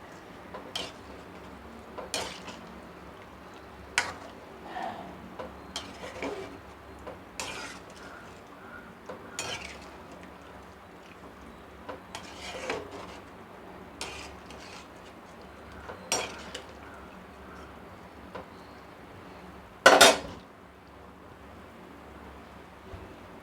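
A spoon stirs mutton curry with tamarind water in a cooking pot, producing scattered light metallic clinks and scrapes, with one louder knock near the end over a quiet background.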